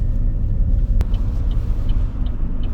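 A car pulling away on the road during a beginner driving lesson, a low steady engine and road rumble close inside the cabin, with a brief sharp click near the start and faint high ticks.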